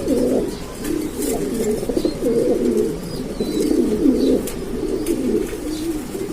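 Lahori pigeons coo steadily and close by in a low, throaty rolling chorus, with overlapping calls continuing throughout and no speech.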